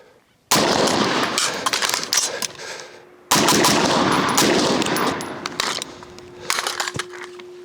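Rifle Supply RS15 AR-15 firing two long, loud strings of rapid shots close to the microphone, separated by a short pause, then tailing off into scattered shots.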